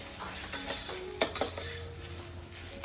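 Rice being sautéed and stirred in a pan for a biryani, a soft continuous sizzle with a spoon scraping and knocking against the metal in irregular strokes, close and fairly quiet.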